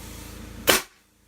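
A single sharp, loud crack as a homemade valve-operated arrow gun fires an arrow, a brief close burst that quickly drops to near silence.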